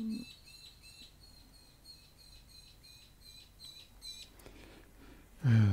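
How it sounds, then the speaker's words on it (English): A small bird chirps in rapid, repeated high tweets for several seconds, fairly clear against a quiet room, before a sudden louder thud cuts in at the end. "The bird's going nuts."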